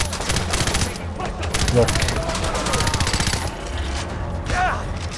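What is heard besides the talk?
gunfire in the video game Far Cry 4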